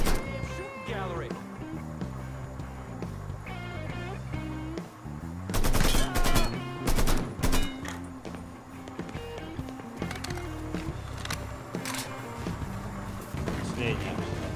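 Gunfire in the video game Mafia 3, with loud bursts of rapid automatic shots clustered in the middle over game music and vehicle noise, with shouting voices and speech around it.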